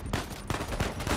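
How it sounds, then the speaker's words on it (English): Rapid gunfire in the action game Uncharted 4, a quick run of four sharp loud shots about a third of a second apart over dense background battle noise. "Somebody was shooting, I didn't even see him."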